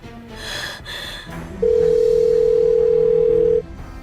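The ringback tone of an unanswered telephone call: one long, steady, loud tone lasting about two seconds, following a few quieter background sounds, with no talking.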